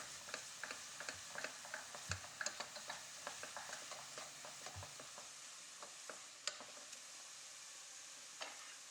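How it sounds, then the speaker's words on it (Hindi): Chopped onions cook in a pan until golden brown, producing a faint, soft sizzle punctuated by intermittent clicks and light taps from stirring. "अब प्याज को इतना कुक करेंगे कि ये अच्छी गोल्डन हो जाए"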